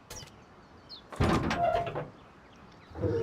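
An in-game door in Rust opens, with a clear sliding mechanical rush of about a second, followed by quieter ambient noise and a second lower swell near the end.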